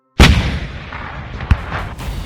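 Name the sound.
cannon artillery fire sound effect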